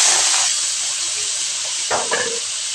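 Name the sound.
pork belly sizzling as it is added to the pan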